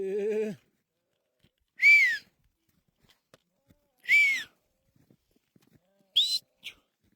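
Sheep and goats in a flock bleat in open country, with three or four separate loud wavering calls spaced a couple of seconds apart and quiet between them. A short human whistle or call opens the clip.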